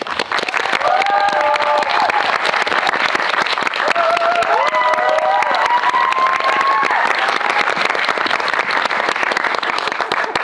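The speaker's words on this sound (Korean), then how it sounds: "큰 박수로 맞이해 주십시오." An audience at a film screening Q&A for the Korean movie Neighbors (이웃사촌) applauds to welcome the director and an actor: thick, continuous clapping for ten seconds, with a few cheers and high shouts rising above it.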